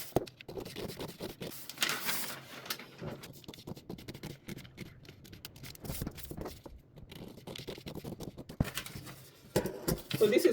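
Scissors cutting through fabric along a paper skirt pattern, a string of close, scratchy snips and rustles with short pauses and intermittent handling noise.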